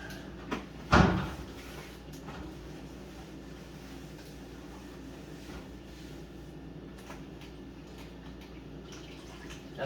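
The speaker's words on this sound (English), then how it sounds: "Now this one drawer doesn't come out very good" A stiff kitchen drawer yanked open, a short bump then a loud scraping clunk near the start, followed by a long stretch of quiet room tone with faint clicks.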